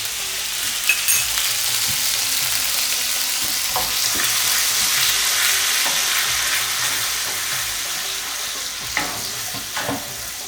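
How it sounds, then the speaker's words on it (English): Ginger garlic paste sautéing in a tablespoon of oil for matar paneer, a steady broadband sizzle running close and fairly loud for the whole stretch, with occasional soft stirring clicks and no talk. "We'll saute ginger garlic first."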